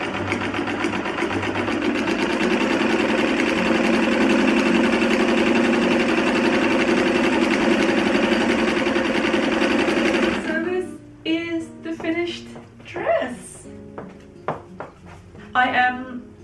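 A sewing machine runs steadily and loudly for about ten seconds, hemming the skirt of a 1950s shirtdress with a continuous whirring drone. It stops abruptly, and then a person talks nearby.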